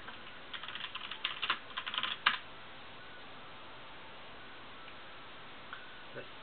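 Rapid typing on a computer keyboard while working in Photoshop, a close burst of quick key clicks for about two seconds, then near silence with a couple of faint later taps.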